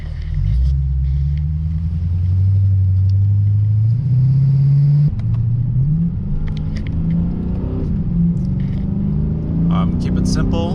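Lexus RCF driving on a road in second gear without a chassis strut brace, a steady low engine rumble that rises as it accelerates, heard from inside the car.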